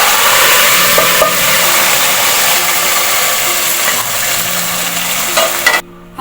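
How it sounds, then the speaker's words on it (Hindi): Loud, steady sizzling of onions frying in hot oil for a tempering, a dense crackling hiss that fills the clip and cuts off abruptly near the end. "अब हम इसको तड़का दे रहे हैं"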